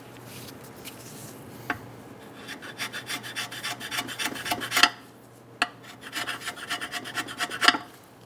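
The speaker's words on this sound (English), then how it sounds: "When you're cleaning, try not to push any debris into these ports. Try to scrape everything off of the side." A scraper rasps debris off the intake ports of a 2003-2008 Honda Pilot engine, making quiet, close, rhythmic scratching strokes with a few sharp metallic ticks.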